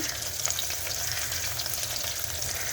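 Chopped onions fry in oil in a pan for a desi chicken and potato curry, giving a steady close sizzle with faint stirring scrapes and no talking.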